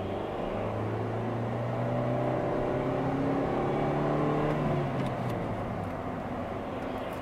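A 1.25 litre Ford Fiesta engine accelerates steadily, its drone rising in pitch over several seconds with dense broadband road and wind noise throughout, then easing slightly near the end.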